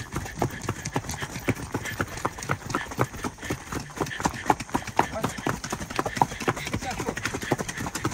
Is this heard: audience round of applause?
no